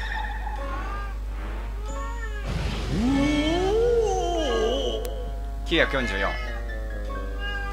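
Cat girl character in the GeGeGe no Kitaro PS2 game meows in a stretched, wavering cry mid-clip, followed by a short sharper yowl, over steady game audio with someone talking at the start.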